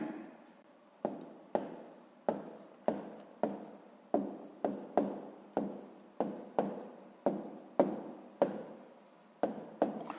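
Pen strokes on notebook paper while working a sixth-grade maths exercise, a long run of quick, sharp scratchy marks repeating at a brisk, uneven rhythm, close and clear with no talk.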